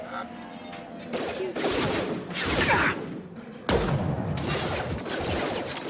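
Gunfire in the Mass Effect 2 shooter game, with several loud close bursts and sustained volleys of shots layered over a noisy battle mix while voices talk throughout.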